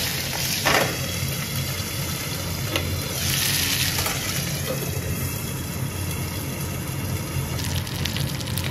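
Curry leaves and dried red chillies frying in hot oil for tapioca poriyal, a loud, dense, close sizzle with crackling pops and occasional stirring, steady throughout without voices.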